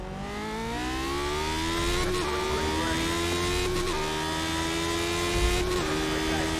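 A 1978 Formula 1 car in iRacing at Spa holds a loud, steady engine drone with rising harmonic sweeps as revs climb through the gears, with brief dips at each shift, constant and close.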